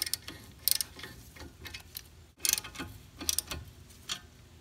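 Brake caliper bracket bolts on a Toyota Camry or Corolla are tightened with a ratchet, giving faint, close, irregular clicking bursts with a brief pause midway.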